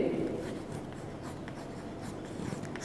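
Chalk or marker scratching steadily across a classroom board while equations are written out, a soft continuous scraping texture, fairly quiet and up close.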